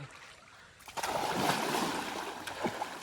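People swimming in a resort pool send up water splashes: a quiet start, then a burst of splashing and sloshing that lingers, with a few smaller splashes after and no clear speech.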